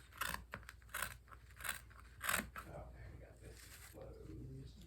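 Scissors snip through burlap along a wreath form, several crisp cuts in a loose rhythm over the first few seconds, close and moderately loud, followed by quieter handling sounds.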